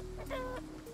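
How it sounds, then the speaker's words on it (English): Chickens in the survival city-building video game Endzone cluck in a short run of soft, repeated calls, steady and close, with no talking. "They are chickens."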